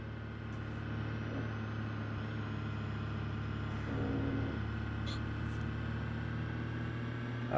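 A Ford Transit van accelerating on a Nordschleife lap gives a steady, droning engine roar with road and wind noise inside the cab, rising slightly in loudness as it gathers speed.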